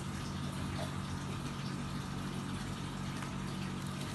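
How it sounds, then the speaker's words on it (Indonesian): Strong, steady rush of water gushing continuously from a hole in a container, a dense broadband roar with no breaks and no voices. "air mengalir paling deras."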